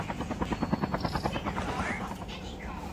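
Helicopter flying in a video game, a steady rotor chop pulsing in a fast, even rhythm near at hand, with voices talking over it.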